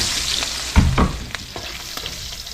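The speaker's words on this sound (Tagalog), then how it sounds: "Uh, pinaggigisa natin yung pinagpirituan ng dahil. Gisa na tayo." Bitter gourd (ampalaya) sautés in a pan with oil left over from frying, hissing steadily while a utensil scrapes and stirs in a few sharp bursts near the start.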